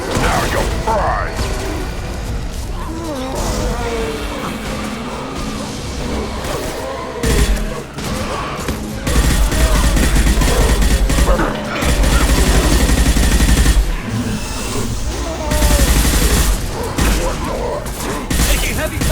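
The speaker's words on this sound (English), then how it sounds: "Taking heavy fire!" Heavy gunfire in the video game Mass Effect 2 rattles as dense automatic bursts and impacts, with booms and mechanical clanks, mixed with shouted character dialogue throughout.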